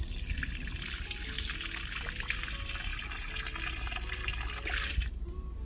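Water from half-full IBC tanks runs down a long outdoor pipe with a ten-metre fall, a faint steady trickling and gurgling flow that continues throughout at a distance.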